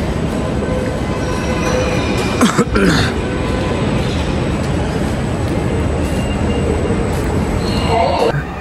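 Steady, loud rumble of a Dhaka metro train in motion, with a couple of brief throat-clearing sounds partway through.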